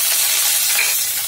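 Curry leaves and green chillies sizzle and crackle in a hot tempering for vakkaya dal, a steady close frying hiss with some stirring, heard alone.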